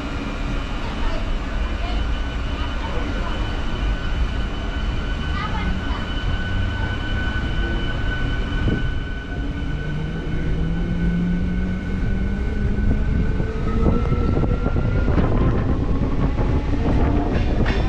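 A MEMU express passenger train pulls out of Karamadai railway station on the Mettupalayam–Coimbatore–Podanur line, a steady loud rumble of wheels and carriages with faint clickety-clack throughout.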